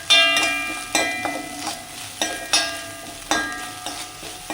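Grated coconut with turmeric powder stirred in a hot pan, with sharp scraping spatula strokes at an uneven rhythm over a soft frying sizzle, close and alone.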